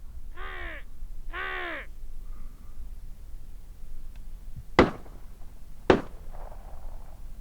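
Two harsh caws imitate an aggressive carrion crow, probably from a hunter's call on a snowy field. Quiet follows, then two sharp, loud shotgun blasts about a second apart.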